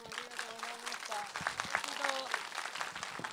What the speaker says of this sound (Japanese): もう一度監督とキャストの皆さんに拍手をお願いいたします。